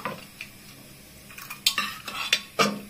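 Clanks and scrapes of a pressure cooker lid and a metal ladle in a home kitchen as boiled dal is checked after three whistles, a few sharp knocks toward the end over a quiet background.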